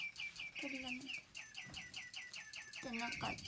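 Birds call and chirp outdoors on a cold winter morning, repeated bright chirps in short bursts mixed with lower cluck-like calls, moderately near, with a voice speaking between them.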